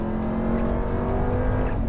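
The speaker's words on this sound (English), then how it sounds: "the supercharger whine will put a smile on your face every time" A 2021 RAM 1500 TRX pickup accelerating hard under full throttle, its engine roaring loudly and steadily with a rising supercharger whine layered over the low rumble.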